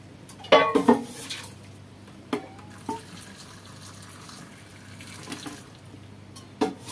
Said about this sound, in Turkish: Hazırladığımız kaynar suyu kavanozlara dökeceğiz.